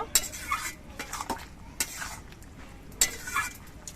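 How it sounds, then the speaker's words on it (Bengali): Chopped coriander leaves being stirred into a cucumber, coconut and prawn curry in a pot: a spoon scrapes and clinks against the pot in several distinct strokes, close and moderately loud, with no talking. "এবার ধনে পাতা কুচি দিয়ে নেড়ে চেড়ে মিশিয়ে নেব"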